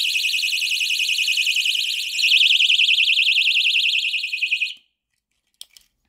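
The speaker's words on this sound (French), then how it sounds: "J'ai une alarme personnelle juste pour me sentir un petit peu plus en sécurité." A pull-activated personal safety alarm blares a loud, piercing warbling tone for several seconds, then cuts off abruptly, leaving silence and a couple of faint clicks.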